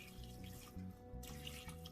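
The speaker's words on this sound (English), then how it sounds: "I'm gonna rinse off the fish" Tap water runs steadily into a kitchen sink as fish (tilapia) is rinsed, a continuous close splashing flow with brief shifts in intensity.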